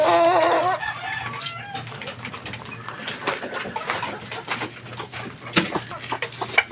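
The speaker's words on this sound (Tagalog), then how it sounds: "Ito naman yung bobcock na talisay." A Talisay gamecock crows loudly and close up at the start, then keeps up scattered clucks and scratchy rustling against a faint low background hum.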